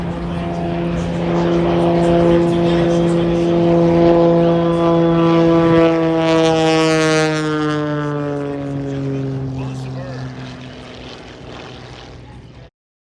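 A propeller airplane flies past in a knife-edge pass at the Arctic Thunder airshow in Alaska, its loud engine drone swelling and then falling in pitch as it passes before fading out.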